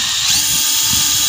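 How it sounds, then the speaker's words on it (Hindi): An FMS Mercedes-Benz Unimog 421 RC crawler running its electric motor in first gear, making a steady high-pitched whine that carries at close range, loud and constant throughout with no speech. "इसकी फर्स्ट गियर में ये क्राउलिंग करता है"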